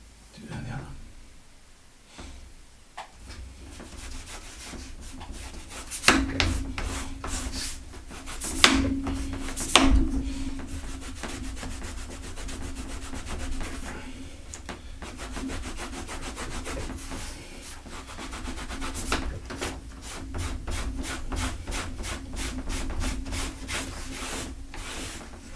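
A wax treatment is rubbed into a leather strap to heat it in, making continuous brisk friction strokes that speed into a fast, even rhythm near the end, close and moderately loud.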